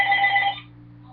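A telephone rings once, a bright electronic trill that stops abruptly after about half a second, leaving a low steady hum, close and with no talk.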